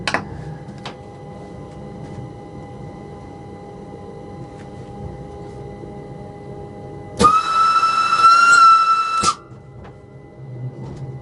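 A loud, sustained train whistle blasts for about two seconds over the low rumble and hiss of a moving train on the Lucerne-Meiringen-Interlaken rack railway line, then cuts off sharply.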